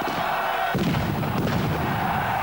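Firecracker bursting with a sudden sharp bang inside a football stadium during a Nice versus Bastia Coupe de France match, followed by crowd roar and noise.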